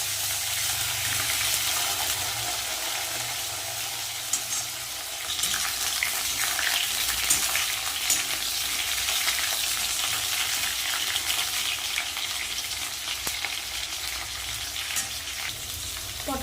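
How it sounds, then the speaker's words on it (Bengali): Pointed gourd (potol) pieces frying in oil until reddened, a loud continuous close sizzle and bubbling crackle that keeps going with slight shifts in intensity, no talking. "পটলগুলো লাল লাল করে ভেজে নেবো"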